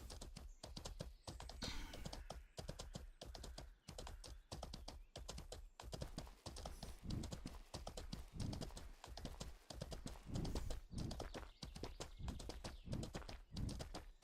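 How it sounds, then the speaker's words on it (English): Horse hooves clip-clop in a steady, close rhythm throughout a video game scene, loud and continuous with no talking over them. "I hate how horses sound, man. I could have swore somebody was running up behind me."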